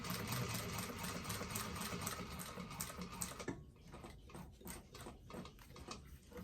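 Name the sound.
sewing machine stitching a bifold wallet seam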